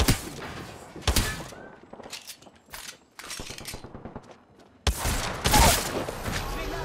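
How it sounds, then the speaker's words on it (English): Gunfire in the Apex Legends video game, with bursts of rapid shots and heavy thuds arriving in clusters, loud and close, separated by brief quieter gaps. "Ooh, I'm getting shot at now."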